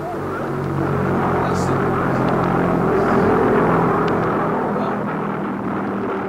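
A V1 flying bomb's pulse jet engine gives a steady, continuous drone with a rough buzzing rumble throughout, fairly loud and unbroken.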